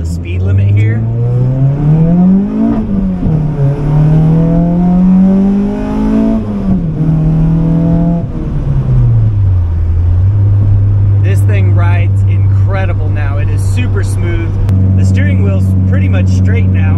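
A K20/K24-engined car with an RBC intake manifold accelerates up to the speed limit, the engine note climbing through gears in loud close rising sweeps, then settling into a steady drone at cruise.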